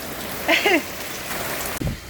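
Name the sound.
heavy rain falling in big drops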